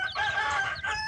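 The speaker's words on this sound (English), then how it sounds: "And there's the rooster." A rooster crows nearby in a farmyard with chicks, one sustained, loud, harmonic crow filling the moment with no speech over it.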